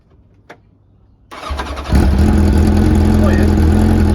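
Kawasaki ZZR1100 motorcycle fitted with a Micron exhaust fires up after a quiet pause with a click, then settles into a loud, steady, throaty idle close by.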